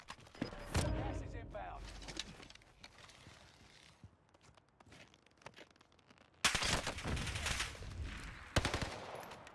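Call of Duty Warzone solo match gunfire: sharp bursts of automatic fire near the start, a quieter stretch of scattered shots, then loud rapid volleys returning toward the end.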